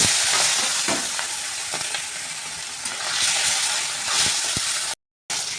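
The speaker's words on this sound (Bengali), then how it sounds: "বাকি মাছগুলো ভাজা হয়ে গেছে এবার তুলে নিচ্ছি" Fish frying in hot oil in a pan, a steady loud dense sizzle with scattered crackles and pops, running without talk and briefly cutting out near the end.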